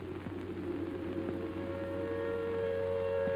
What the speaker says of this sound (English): Then the air raid siren wails again